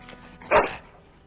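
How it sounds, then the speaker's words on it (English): A single short, sharp dog bark from the fantasy video game Dragon Age: Origins, loud and close, standing alone against faint background. "Bloody dog."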